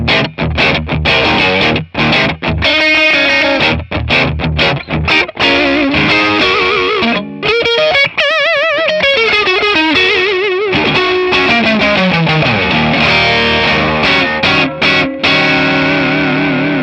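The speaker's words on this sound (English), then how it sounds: "That sounds like a tube screamer in front of something." An electric guitar played through a Tonex overdrive pedal set for a Tube Screamer-style tone, with loud, continuous distorted chords and sustained lead notes, full and saturated, alone without voices.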